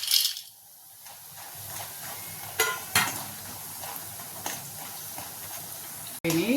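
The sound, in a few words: minapa vadiyalu (black gram dumplings) frying in hot oil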